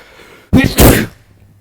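A single sharp sneeze from a person with a cold, a brief loud burst following a quick intake of breath, alone in an otherwise quiet room.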